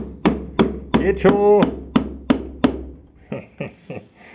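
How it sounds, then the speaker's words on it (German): A hammer taps swollen LFP battery cells into a case, a series of sharp, evenly spaced knocks, with a brief spoken phrase in the middle and softer taps trailing off near the end. "Haben wir einen Hammer?"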